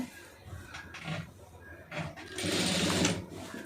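A sewing machine stitches a saree fall in brief stop-start runs, with short bursts early on and a longer, steadier whirring run near the end, close and moderately loud with no talking.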